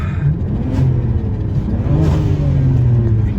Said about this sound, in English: Let me see what happens when I rev it.